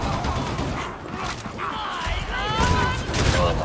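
Shotgun fire in the co-op shooter Darktide, a chaotic burst of booming blasts and crashes mixed with game effects, loud and close, with voices talking over the action.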